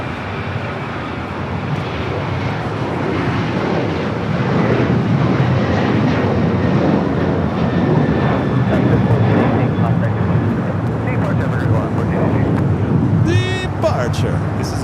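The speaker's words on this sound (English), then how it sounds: "Departure. This is Alaska 1418 going to Guadalajara." An Alaska Airlines jet departing LAX on flight 1418, a broad rumbling engine roar building and holding at moderate distance, with wind and faint voices in the background.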